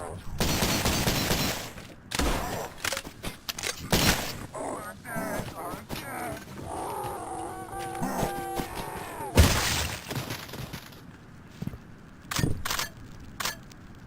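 Gunfire in the retro horror shooter Cultic comes as several sharp, loud bursts spread out over time, broken by glassy crashes, creaks and quieter game sounds, with a voice talking in between.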